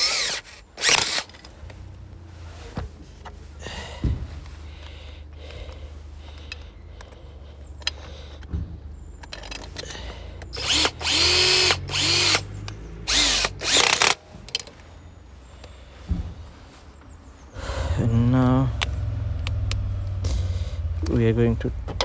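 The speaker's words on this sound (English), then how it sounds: "So we're gonna screw these two bolts." A power drill drives two bolts into the EGR pipe of a Toyota Auris/Prius hybrid in short whirring bursts, the loudest near the end, with someone talking in between and some tool clatter.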